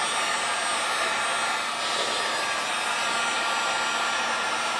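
A heat gun blows steadily on its low setting during a headliner install in a classic Ford Mustang, giving a constant, close, broadband whoosh with no break.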